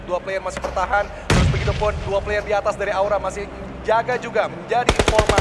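Automatic gunfire during a PUBG Mobile esports match, with a sharp burst mid-clip and a rapid volley of shots at the end, heard under fast, continuous commentary.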